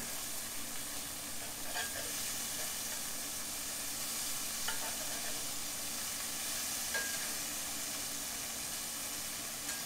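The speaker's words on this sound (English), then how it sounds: "Bacon only take a minute to cook." Bacon sizzles in a frying pan with a continuous bright hiss and crackle, steady and close, with a few soft scrapes of stirring and no talk.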